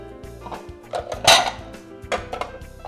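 A bowl pulled out for mixing chicken, sweet red pepper, parsley and green onion: a few close clinks and knocks of dishes, with one louder clatter partway through and no voices.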